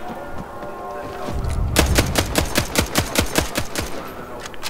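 Rapid gunfire in the video game Bloodhunt starts after a quiet lead-in: a fast string of sharp, loud shots with heavy thumps, roughly a dozen in quick rhythm, ending abruptly.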